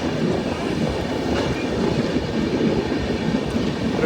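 The Tirumala Express runs at speed, its railcars giving a loud, continuous rumble with a faint clickety-clack rhythm throughout and no voices.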